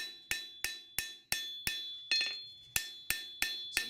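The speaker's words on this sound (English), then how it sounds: "cleaning the anvil, hammering on that spot" Hammer blows ringing on a steel blade over an anvil while a bladesmith draws the heel, about ten sharp metallic strikes at a steady rhythm with bright ringing overtones, loud and close, no talk.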